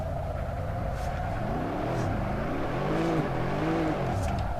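A Nissan Skyline engine revs hard in third gear in the Assetto Corsa racing game, a continuous rising and falling engine drone with shifting pitch sweeps and steady loud volume throughout.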